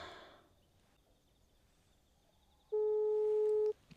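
A single steady telephone ringback tone on an unanswered outgoing call to a wife, sounding clearly once for about a second after quiet room ambience.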